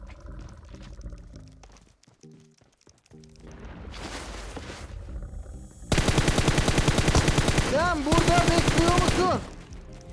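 Rapid automatic gunfire in a video game, first lighter bursts and then a loud, sustained rattling stream of shots with some game effects layered in, continuing steadily for several seconds.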